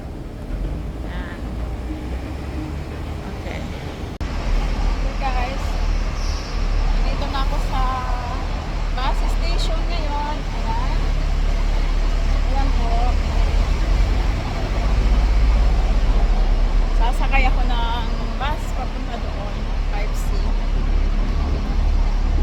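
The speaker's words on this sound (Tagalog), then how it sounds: "sasakyan ko ang bus papuntang Chimsa Choy. Okay, nandito siya." City bus pulling up on a rainy Hong Kong street, its engine rumbling low and rising as it arrives amid steady traffic noise, with someone talking close over it.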